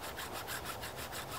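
A bone needle is being carved with a notch, producing a continuous rhythmic scraping rasp of steady back-and-forth strokes, close and fairly loud, with no talking.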